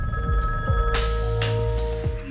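A telephone rings on a police recording of a call in a kidnapping case. A steady electronic ring runs through the clip at a moderate level, heard on its own.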